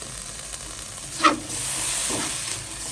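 Basil stir-fry with soy sauce being tossed in a hot pan, a steady soft hiss and sizzle with a couple of brief scraping stirs, close and moderately quiet with no talking.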